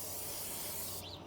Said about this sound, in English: first things first, the non-stick spray